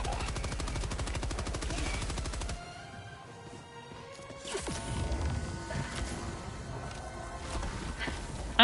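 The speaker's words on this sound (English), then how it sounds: "I don't use the machine guns enough" Helldivers 2 machine gun fire hammers out a fast continuous burst for a couple of seconds, then cuts off before heavy impacts, crashes and scattered further shots follow.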